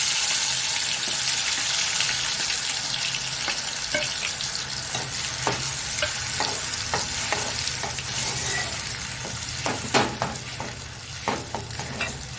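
Raw ground masala paste sizzling in hot oil for a surmai fish curry, a steady loud fry with clinks and scrapes of stirring scattered throughout, no talk.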